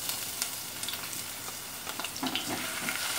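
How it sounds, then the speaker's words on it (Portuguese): Onion and garlic sautéing in olive oil in a pan while making chicken stroganoff, a steady close sizzle and frying crackle throughout with occasional stirring scrapes, no talk. "E eu vou refogar cebola e alho da mesma forma que eu fiz pra fazer o arroz"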